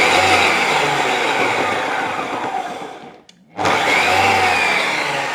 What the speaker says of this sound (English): we'll give that a pulse